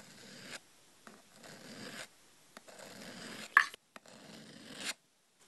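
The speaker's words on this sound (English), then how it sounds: "push the rods through the serrated grooves one at a time and put that edge back onto those serrations" Rods of a Gerber Bear Grylls Field Sharpener drawn through the grooves of a serrated knife edge, heard as about five short, close rasping strokes with brief pauses between them.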